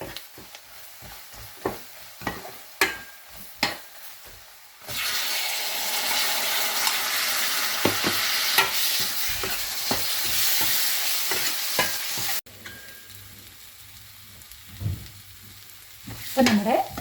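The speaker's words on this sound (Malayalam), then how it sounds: "അപ്പോൾ നമ്മൾ ഇട്ട് കൊടുത്ത തക്കാളി നല്ലപോലെ വഴന്നു വന്നിട്ടുണ്ട്." Tomatoes sauté in a pan for a Kerala cashew curry. Frying sizzle and stirring scrapes come in bursts, with a louder, steady hiss in the middle stretch.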